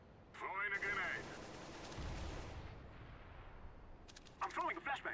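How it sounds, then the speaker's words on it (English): A grenade goes off in the video game CS:GO, a deep muffled blast amid ongoing game noise while a person talks over it. "Throwing a grenade."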